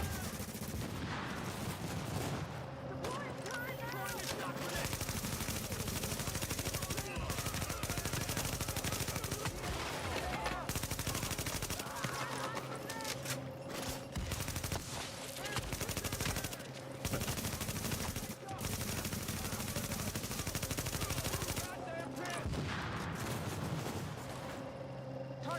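Sustained gunfire in The Division: repeated bursts of automatic weapons and sharp single shots crackle loudly and nearly continuously, with brief gaps, while voices bark short callouts over the firefight.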